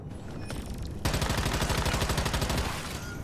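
Rapid automatic gunfire in the Warzone video game, a dense run of evenly spaced loud shots that bursts in suddenly after a quieter opening and continues to the end.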